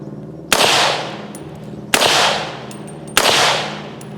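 Three loud, close gunshots, each a sharp crack followed by a ringing decay, fire supersonic cast bullets from ammunition kept underwater for 72 hours, spaced about a second and a half apart with no talk.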